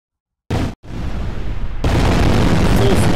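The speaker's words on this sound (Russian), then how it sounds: "Ух, вот это взрыв." A loud, close video-game explosion in Grand Theft Auto: Vice City Stories bursts out, briefly cuts, then roars into a sustained rumbling blast as a building is destroyed, staying heavy to the end.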